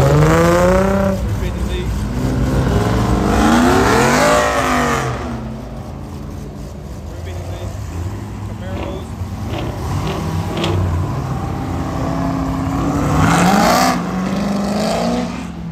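A Dodge Hellcat at a car meetup revs loudly and close by, its engine rising and falling several times before pulling away, with people talking in the background.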